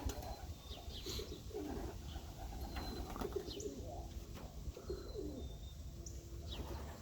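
Soft pigeon cooing mixed with scattered chirps and tweets, under a steady outdoor background hum, continuing throughout without talk.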